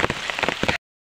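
Rain patters on leaves in a pineapple field during the rainy season, a close, dense spatter with irregular drop hits that cuts off abruptly after under a second.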